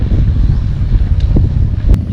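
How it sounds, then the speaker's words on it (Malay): Strong wind roars and buffets loudly, a low rumbling gust battering close in, with a couple of faint knocks. "Angin kuat."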